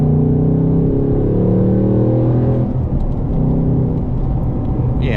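A 2025 Ford Mustang Dark Horse with a naturally aspirated V8 and manual transmission drives hard, its loud engine rising steadily in pitch through a gear, then dropping after a shift and climbing again, close and continuous with no talk.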